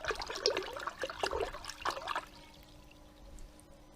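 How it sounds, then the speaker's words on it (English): A motorcycle battery retaining clip from a Ducati ST2 is rinsed with water after soaking in alkali cleaner: soft close splashing and trickling for about two seconds, then near silence. "So let's just rinse that."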